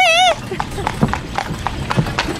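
A strong new horse pulls a cart, its hooves clopping in an even rhythm after a brief whistled tone at the start.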